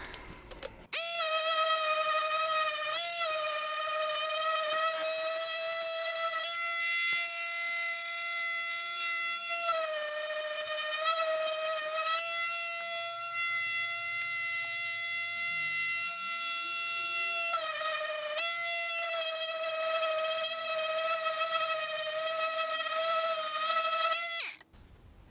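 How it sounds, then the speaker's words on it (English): A small mini palm sander with fine sandpaper works a piece of wood, giving a loud, steady, high motor whine that runs almost the full length with a few brief dips in pitch. "A little mini palm sander"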